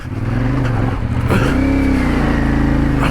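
CF Moto 450 motorcycle engine revving hard off-road while the rear wheel spins, a loud continuous close engine note rising in pitch midway and held high to the end.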